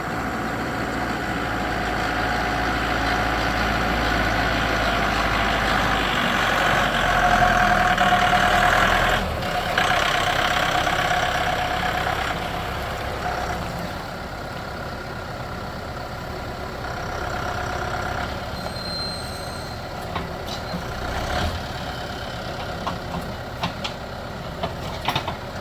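A tractor engine runs steadily during a black cherry log harvest, a rumbling idle that swells a little then settles, heard nearby for the whole stretch with small clanks near the end.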